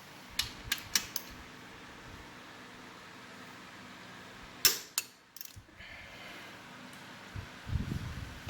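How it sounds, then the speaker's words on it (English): Sharp ratchet clicks from a torque wrench tightening rocker box bolts on a 1974 Triumph Trident motorcycle, a few quick clusters of clicks separated by quiet pauses, close and fairly faint. "These are getting torqued down to 6 foot-pounds"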